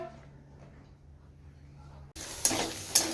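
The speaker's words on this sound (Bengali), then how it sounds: "আলু উচ্ছে ভাজা হচ্ছে" Potatoes and bitter gourd fry in a pan. A quiet kitchen gives way to a sudden loud sizzle, and two sharp scrapes of stirring follow close up.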